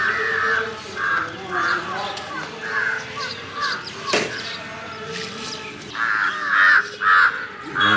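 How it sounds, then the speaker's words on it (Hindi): Many crows caw outdoors at a riverside park in Ayodhya, with repeated loud, rhythmic calls, some near and some farther off, over a busy background. "पक्षियों की आवाज़, खूब काँव काँव की आवाज़ सुनने को मिल रही है"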